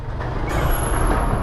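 A bus's air brakes let out a sudden loud hiss about halfway through, rising over a low engine rumble on a road trip toward a waterfall near Bogor.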